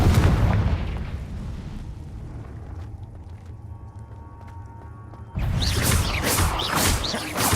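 A Confringo blasting spell explodes in the video game Hogwarts Legacy, a loud broadband boom at the start, then a quieter rumbling lull before a second sudden burst of crackling blast noise near the end.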